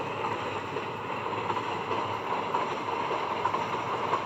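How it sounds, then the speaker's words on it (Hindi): A Gatimaan Express with a WAP-5 electric locomotive rolls along in the Indian Railways train simulator video game, a steady rumbling rail drone with faint wheel clicks, no voices. "ये बिल्कुल real Indian train simulator Indian railways"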